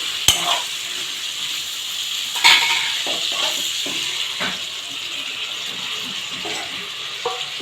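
Tomatoes go into curry frying in a pan, bringing a steady close sizzle and hiss with occasional clinks of a spoon or utensil against the pan and soft stirring scrapes, with no one talking.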